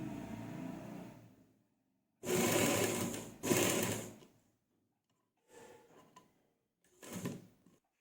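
A sewing machine stitches underground piping along the folded edge of a dupatta, running in several loud close bursts separated by pauses, two long runs back to back and then shorter ones.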